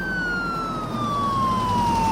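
A loud ambulance siren sounds close by, its single tone gliding slowly downward as a vehicle engine rumbles underneath.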